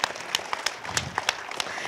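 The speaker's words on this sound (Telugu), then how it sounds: "దానికి మనం అందరం గట్టిగా చప్పట్లు కొట్టాలా లేదా?" An audience at a spiritual gathering claps in a short burst of scattered, uneven hand claps, fairly close and lively, lasting under two seconds.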